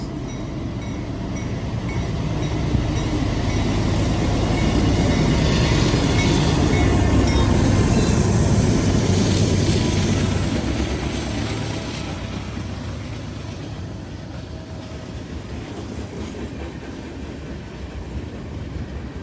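Freight train with locomotive 46-46 passing close by, a loud sustained rumble and roar of rolling cars that swells mid-pass and then slowly eases. Any mechanical bell is buried under the train noise.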